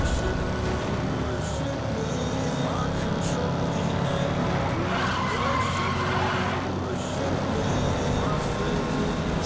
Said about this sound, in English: Unnecessary crash right there